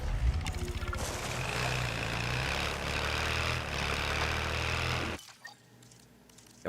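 Loud, steady engine exhaust roar in a video game, a broad rumbling drone holding for about five seconds before cutting out abruptly, leaving quiet background sound.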